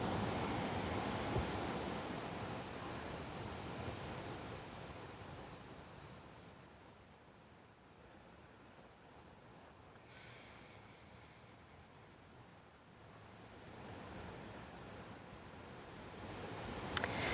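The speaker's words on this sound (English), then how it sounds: "God, I love the ocean. I can hear this every night as I'm going to sleep." Ocean waves roll and wash in a soft, continuous hiss that swells, fades to a quieter lull in the middle, then builds again, heard from a distance and fairly faint, with no voices.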